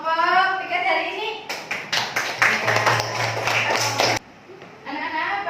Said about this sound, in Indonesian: Yuk, tepuk tangan untuk kelompok 3 hari ini.